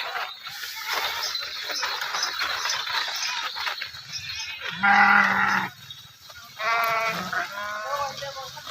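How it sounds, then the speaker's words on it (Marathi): A sheep grazing on open farmland near Pandharpur gives two loud, drawn-out bleats close by, breaking a low outdoor background of murmuring and rustling. "ही मेंढी माऊली अशी चरायला निघालेली आहे"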